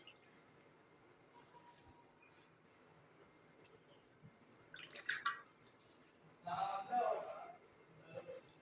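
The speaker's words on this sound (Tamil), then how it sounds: "இப்போ இந்த கறிவேப்பிலையை நல்லா தண்ணியில் நல்லா முக்கி அலசிக்கோங்க" Water sloshes and splashes in short bursts as curry leaves are dipped and swished, over a low background hum.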